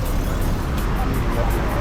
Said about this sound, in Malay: Banyak juga kereta ni.